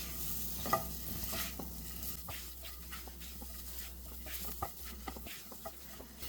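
Scored eggs coated in masala fry gently in a pan for Afghani egg curry, a quiet low sizzle with scattered taps and scrapes of a utensil turning them.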